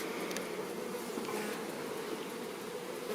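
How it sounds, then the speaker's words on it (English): A dense swarm of honey bees hums steadily from an opened backyard hive, a continuous low buzz with no pauses and no talk. "I can't believe how many bees there are."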